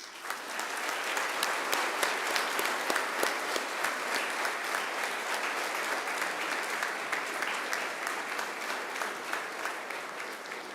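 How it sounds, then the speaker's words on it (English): Audience of family and friends applauding at a university graduation ceremony in a large hall, sustained dense clapping with scattered sharper claps standing out, evenly loud throughout and moderately distant. "Turn to face your family and friends and give them a big round of applause."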